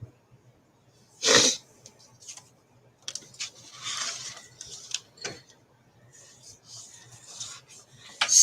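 One sharp, close sneeze from a woman, followed by scattered rustling, rubbing and soft breathy noises.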